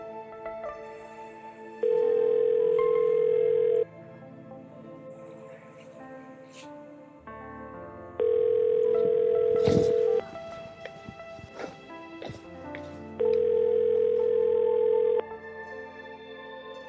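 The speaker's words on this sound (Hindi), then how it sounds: "यार फोन भी नहीं उठा रहा है ये" An unanswered phone call gives a ringback tone in three evenly spaced, steady bursts of about two seconds each. Quieter room noise and a sharp knock fill the gaps.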